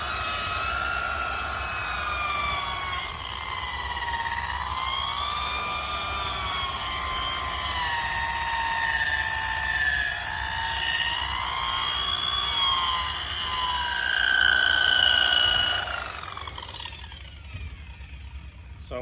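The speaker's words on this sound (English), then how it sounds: "Keep your buffer spinning, not too fast." A polishing buffer spins against the damaged paint of a Honda S2000, giving off a steady, fairly close mechanical whine whose pitch drifts up and down before it cuts off near the end.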